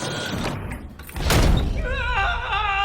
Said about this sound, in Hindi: इसे बंद क्यों किया?